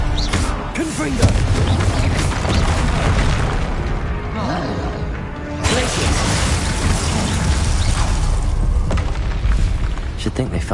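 Booming blasts from the Confringo fire spell erupt through a Hogwarts Legacy battle, heavy repeated explosions layered with magical whooshes and clatter, with a voice calling out over the din.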